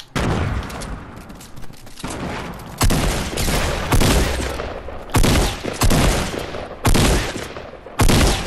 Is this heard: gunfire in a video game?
yes